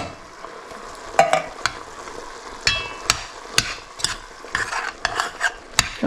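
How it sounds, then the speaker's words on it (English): Diced tomatoes with their liquid are stirred into a wild turkey chili in the pot, giving close, irregular scraping clacks of the spoon over a low wet simmer, with no talk. "We're going to go ahead and add our diced tomatoes with the liquid."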